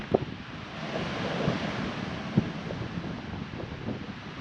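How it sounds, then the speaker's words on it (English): Gusty wind buffets steadily with a broad roar beside a car at a clifftop coastal spot, waves faintly washing in the distance and a few soft bumps nearby. "I'll just hold the camera inside the car because it is a bit windy"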